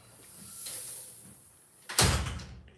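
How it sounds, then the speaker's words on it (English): A door swings shut with a single sharp, loud thud after a stretch of quiet room tone and a faint rustle, the impact trailing off briefly. "He stopped talking when the door closed"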